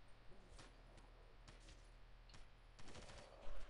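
Rapid bursts of video-game gunfire on a farm-themed shooter map, sharp cracks in several clustered volleys with short gaps, the densest burst near the end, fairly close and without talk.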